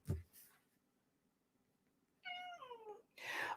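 A house cat meows close by with a drawn-out, wavering call, followed by a louder, harsher burst. Before it comes a brief noise, then a quiet stretch.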